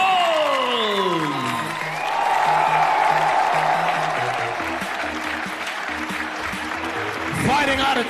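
A crowd at a 70 kg kickboxing fight event claps steadily, with scattered cheers, as a fighter from China is introduced; an announcer talks over the applause with booming arena music.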